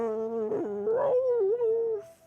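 A dog in Genshin Impact gives a long, wavering, sing-song howl with rising and falling whines, loud and close, ending in a brief fade.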